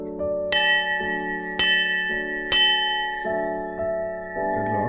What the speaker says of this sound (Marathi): घंटा वाजूया.